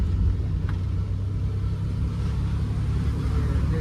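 A car approaches on a road, a steady low rumble of engine and tyres heard continuously from inside or beside a moving vehicle, with no clear voices.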